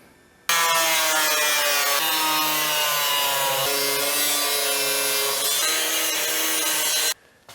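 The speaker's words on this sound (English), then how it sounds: "I'm gonna go ahead and get the cutoff wheel, cut this out" A steady, continuous grinding whine of a cutoff wheel biting through a 1966 car's metal radiator support, loud and close, running without pause for about seven seconds.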